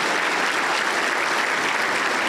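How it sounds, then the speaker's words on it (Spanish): Steady, dense clapping fills a Pentecostal church as the congregation applauds during a healing service, sustained and even throughout the short burst with no talk over it. "Aplauso para el Señor Jesús."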